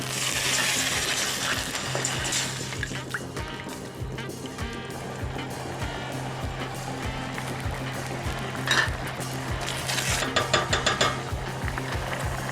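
Water pours into a pot of spicy pork ribs curry, a sloshing, bubbling liquid rush over a low steady hum, with splashes and stirring knocks as it settles.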